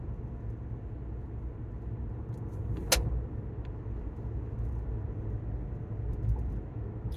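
Car rolling down a mountain road toward a tunnel, with a steady low engine and road rumble throughout and one brief sharp click near the middle.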